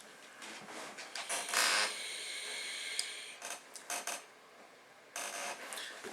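The airflow ring on a Uwell Crown vape tank is turned, giving close, dry clicks and creaking rotation in short bursts separated by brief pauses.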